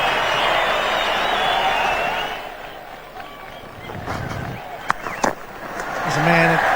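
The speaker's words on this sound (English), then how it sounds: "Listen to the crowd, the home crowd roaring" A home crowd at an Australia vs India cricket match roars loudly and steadily, then fades beneath a commentator's voice as scattered cheers continue in the background.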